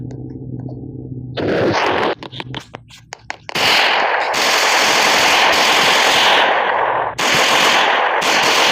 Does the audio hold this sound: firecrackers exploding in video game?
yes